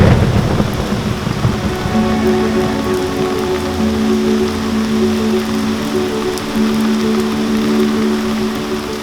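A summer thunderstorm with heavy, steady rain pouring down throughout, with deep rolling thunder rumbling beneath it, loud and close with no voices.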